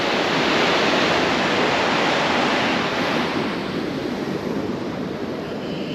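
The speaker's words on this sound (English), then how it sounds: "And if you can hear it in the background there, there's water running through." Water rushing through a levee release point on the Darling River, a loud, steady broadband roar of running water that stays constant and close throughout with no talking.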